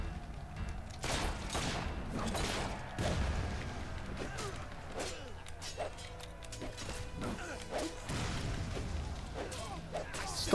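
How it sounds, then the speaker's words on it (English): Bombs explode in an Xbox 360 chicken-chasing game, a series of sharp blasts and crashes going off irregularly over a game soundtrack and background noise, with voices talking among them. "Stop throwing bombs, you cunt."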